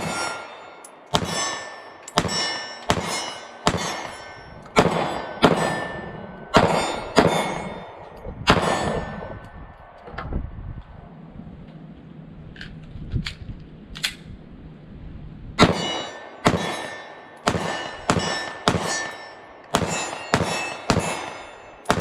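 Sig P365 pistol (NRA edition) fired outdoors from a deck at a 15-yard target, a long series of sharp, loud cracks in quick bursts, with a short quieter gap mid-sequence before rapid shots resume.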